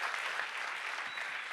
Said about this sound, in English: Big applause for Guillermo.